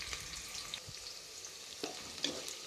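Sliced onions frying in oil, lightly coloring, make a faint, steady sizzle with occasional soft spatula scrapes and tiny pops, heard close and quiet with no talking.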